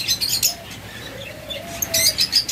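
A pair of lovebirds chirps in bright, repeated bursts of high tweets, some close together and others spaced apart, with no one talking.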